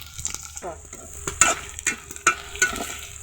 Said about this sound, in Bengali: পেঁয়াজ কুচি রসুন কুচি ও মরিচগুলোকে এভাবে নেড়ে চেড়ে ভেজে নিতে হবে